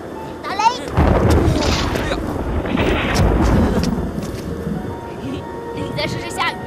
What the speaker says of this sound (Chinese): 试试打雷打雷。